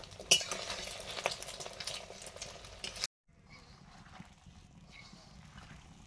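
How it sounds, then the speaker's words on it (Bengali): Desi chicken eggs fry in a pan, with stirring and utensil scrapes over a crackling sizzle for about three seconds, then a brief cut to quieter, fainter frying sounds. "দেশি মুরগির ডিম ভাজা হচ্ছে"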